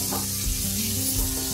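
Okra frying in a pan over a low flame, a steady, close sizzle that runs unbroken throughout with faint stirring scrapes and no talking.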